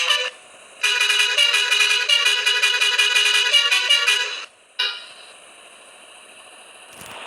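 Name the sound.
bus horn honking in a bus simulator video game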